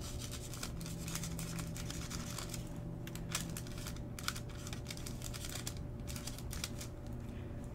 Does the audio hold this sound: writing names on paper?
yes